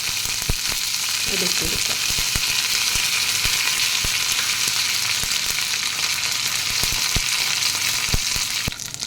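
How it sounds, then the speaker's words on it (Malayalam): Mustard seeds, curry leaves and dried chillies fry in hot oil in a pan, making a loud, steady sizzle with frequent sharp pops and crackles throughout, and a brief spoken phrase at the start. "നമുക്കൊരു പാൻ അടുപ്പത്ത് വെച്ച് അതിലോട്ടേക്ക് കുറച്ച് എണ്ണ ഒഴിച്ച് അതിൽ കടുക്, കറിവേപ്പില, ഉണക്കമുളക്"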